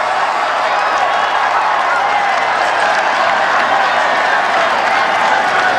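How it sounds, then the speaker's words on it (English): A dense crowd lines the Champs-Élysées as riders of the Tour de France arrive, sending up a steady, loud roar of cheering and applause that holds unbroken throughout, with no clear voices standing out. "Look at that crowd."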